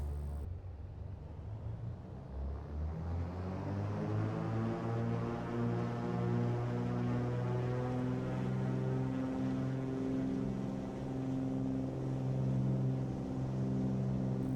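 A small airplane engine on its takeoff roll from runway 11 at Ketchikan drones loudly and steadily, its pitch climbing smoothly as power builds over several seconds.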